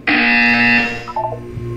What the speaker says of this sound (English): You'll hear a buzzer.